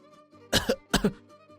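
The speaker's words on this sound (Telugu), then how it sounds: "గట్టిగా దగ్గుతూ ఉంటాడు" Two loud, harsh coughs in quick succession, close and heavy, each with a rough double burst, then quiet.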